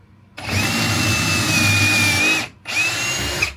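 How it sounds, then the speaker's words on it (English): A cordless power drill drives into a van conversion bed frame with two close, loud whirring bursts, a long run of about two seconds and then a shorter one after a brief pause, with no talking. "squeeze the trigger pretty hard, Yeah. put the drill in here,"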